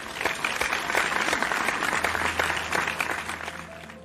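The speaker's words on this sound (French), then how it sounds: "Que ceux qui votent pour mes propositions applaudissent maintenant." A meeting crowd applauds to vote for a set of proposals, bright, dense clapping that carries on steadily for several seconds before thinning slightly toward the end.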